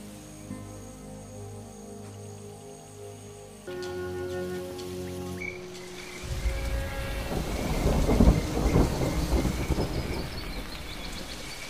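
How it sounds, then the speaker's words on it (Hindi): A sudden afternoon thunderstorm over the Serengeti plains: rolling thunder builds as heavy rain begins pattering on surfaces, swelling into a loud, dense downpour with deep rumbles and faint crickets early on. "ये अचानक बारिश हो जाना सामान्य नहीं लग रहा।"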